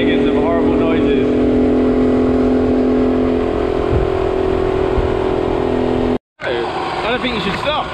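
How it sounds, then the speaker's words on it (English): A failing pink postie motorbike engine drones loudly and steadily with a rough, strained tone, with a brief cut near the end, while people talk over it. "I really don't know how long his bike's gonna last. He is making some horrible noises."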